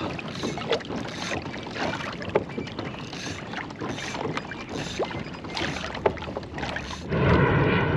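Small fishing boat out on open water during halibut fishing, motor running steadily with wind buffeting the microphone as it swings through a U-turn, hull and water noise continuous and close.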